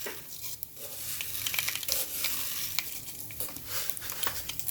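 Cumin, mustard and fenugreek seeds sizzle and crackle in hot oil on a low flame for tempering a bitter gourd curry, with steady frying hiss, scattered pops and some stirring.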